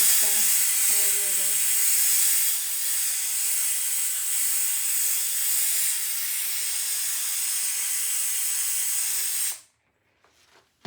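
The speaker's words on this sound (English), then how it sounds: "Let's use a steamer" A steam cleaner blasts a toilet with a loud, continuous hiss that runs for several seconds before cutting off sharply into near silence.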